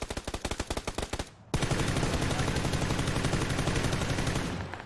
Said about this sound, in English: I have put 80 bullets in that tank.